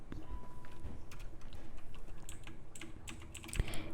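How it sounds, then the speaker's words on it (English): Soft, irregular computer keyboard typing with quick scattered keystrokes and a few louder clicks, picked up close but quiet, without speech. "If you hear my keyboard, I am very sorry."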